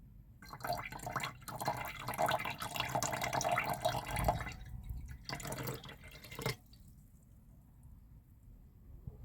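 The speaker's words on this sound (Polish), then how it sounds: "Do odlanych popłuczyn dodaję wodę z odrobiną kwasu solnego." Water with a little hydrochloric acid poured into decanted silver refining washings in a beaker, a busy dripping and splashing pour for about six seconds that stops abruptly, leaving quiet room tone.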